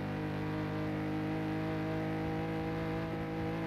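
Race car engine from the video game FlatOut 2, a steady continuous drone with a held pitch at high speed, no talking over it.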